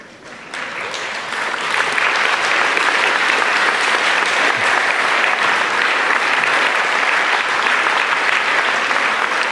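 An audience at an organisation's leadership meeting breaks into applause that swells within the first two seconds, then holds as loud, dense, sustained clapping.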